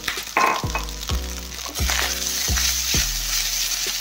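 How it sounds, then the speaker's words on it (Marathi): Cooked rice being stir-fried in a hot pan, with steady sizzling and a spatula that scrapes and taps rhythmically about every second, close and clear with no talking. "आता भाताला फक्त व्यवस्थित परतून घ्यायचं आहे"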